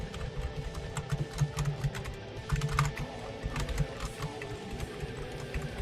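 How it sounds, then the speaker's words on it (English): Steady clicking and clacking of typing on a computer keyboard, close and continuous, with irregular bursts of keystrokes and no talking over it. "The typing ASMR."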